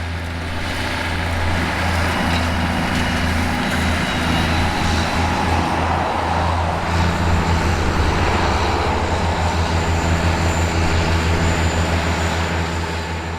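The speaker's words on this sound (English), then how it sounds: "Rory continues work with the Solo, the two tractors creating another excellent late 90s spectacle as they work together." Two tractors, a Ford Versatile 946 and a New Holland 8870, drone steadily and loudly while working a field with a Simba Solo, a continuous low rumble of large machinery nearby.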